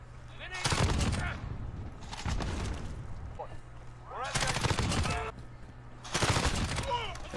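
Gunfire rattles in Modern Warfare: four loud bursts of rapid automatic shots, each lasting about half a second to a second, separated by quieter gaps with scattered distant pops and shell-like metallic tinkles.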